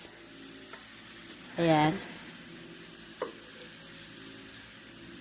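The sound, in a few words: chicken cutlet frying in olive oil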